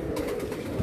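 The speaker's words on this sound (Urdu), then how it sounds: "ہاتھ میں بہت اچھا کبوتر ہے ماشاء اللہ" A prized flying pigeon held in a hand at a pigeon fanciers' gathering gives soft throaty coos, steady and close, with no talking over it.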